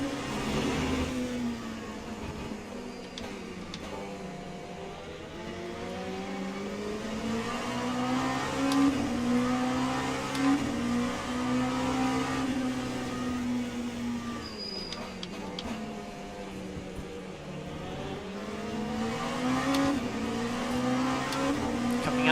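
LMP2 prototype race car engine in the Le Mans Ultimate racing game at Imola, a steady mid-pitched drone rising and falling with revs throughout, loud and continuous with no talk.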